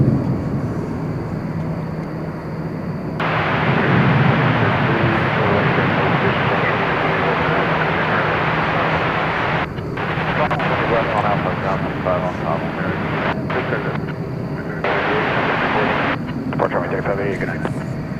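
A Qantas or Turkish Airlines airliner at Dallas Fort Worth Airport at night, a loud continuous jet roar with broadband rushing noise, while a voice talks over it intermittently.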